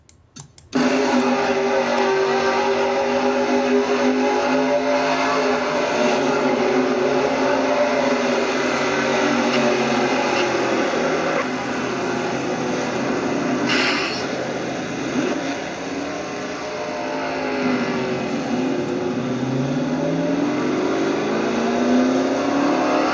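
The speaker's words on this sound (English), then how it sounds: "On board with Wes Riddle in 66 car." Race car engines from a racing video game roar on board the 66 car at the Air Guard 400, a loud sustained drone with rising and falling revs and other cars whooshing past.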